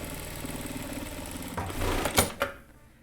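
A sewing machine runs steadily, stitching the lapel of a Chanel-style jacket, a continuous mid-level whir that swells near the end with a couple of sharper bursts before easing off.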